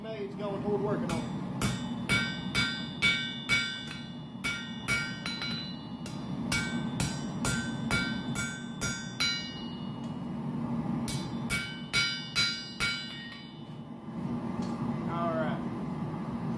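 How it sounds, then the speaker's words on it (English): A hammer strikes a hot titanium knife blade on a forge anvil in quick bursts of sharp metallic clangs, pausing between runs, over a constant low roar from the forge. Brief speech breaks in near the end. "we're gonna continue hammering and flattening and shaping"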